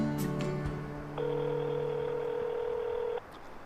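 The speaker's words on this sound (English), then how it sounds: "I'm going to see if the phone works," Cell phone placing a call: a few brief beeps, then a steady electronic tone held for about two seconds before cutting off, fairly clear over a quiet background.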